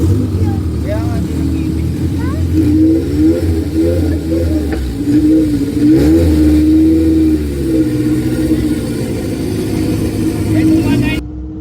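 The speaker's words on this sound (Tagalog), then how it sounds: "Ford Ranger pickup truck going up against the latest edition Honda Civic." A Ford Ranger pickup and a 2023 Honda Civic race on a street drag strip, engines droning loudly and steadily with rising revs throughout, while a voice talks over the noise until it cuts off.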